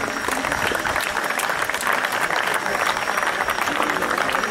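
Sustained applause from an audience at a Lawrence School Sanawar award ceremony, honouring an Army team, a dense steady patter of many hands lasting throughout at an even, fairly loud level.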